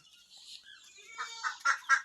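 Faint duck and chicken squawks and quacking calls on a farm, several in quick succession, growing a little louder toward the end in an otherwise quiet space.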